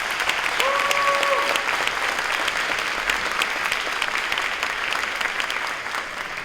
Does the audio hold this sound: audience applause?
yes